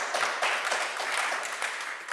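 Audience applause at a Republican gubernatorial forum, a steady wash of many hands clapping at moderate loudness for about two seconds, without a break.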